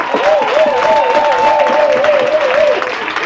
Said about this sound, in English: can you please give her like a heavy round of applause?